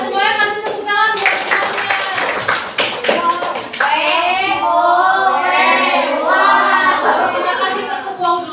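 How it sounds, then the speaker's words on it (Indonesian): A sixth-grade classroom of children claps hands together in a burst of close, sharp claps over the first few seconds, then gives way to loud overlapping children's voices and chatter. "Semuanya kasih tepuk tangan buat"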